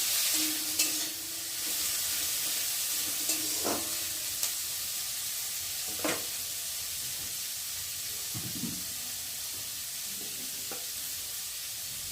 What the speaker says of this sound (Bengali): আর এখন আমি গাজর আর ক্যাপসিকামটা ভালো করে ভেজে নেব